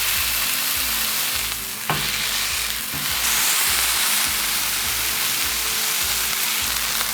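Smash burgers sizzling loudly on an oiled Blackstone griddle beside frying onions and mushrooms, a dense, continuous close hiss with brief scraping bursts from a spatula and no speech.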